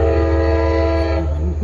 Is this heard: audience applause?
no